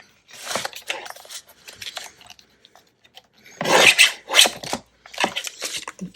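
Scissors snip and rasp through a paper craft piece in short bursts of close, dry cutting and rubbing, with pauses of near silence between the trims.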